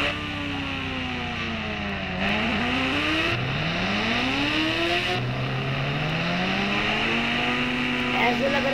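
A Ghost Rider motorbike engine in a video game drones steadily and loudly, its pitch sweeping down and then climbing again several times as it runs unattended through a jungle gate area.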